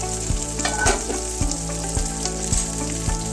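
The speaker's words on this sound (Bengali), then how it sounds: "ভাজা হয়ে গেলে আর একটা পিস তুলতে আমরা ভাজবো।" Chicken pieces for tandoori chicken fry in a pan with a steady, close sizzle and crackle, broken by a few soft, regular thumps.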